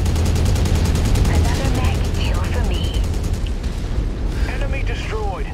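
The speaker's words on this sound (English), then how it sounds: "We're gonna put the machine guns on him." Rapid, continuous machine-gun fire from a battle mech in Mechwarrior 5, loud and dense in a fast rhythmic stream that eases off midway, with game voices and rumbling combat noise underneath.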